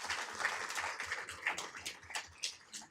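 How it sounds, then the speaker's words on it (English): A sparse audience at a Downey city council meeting claps, a thin, uneven patter of a few hands with distinct individual claps that swell and fade, moderately quiet and without talk. "Give them a round of applause."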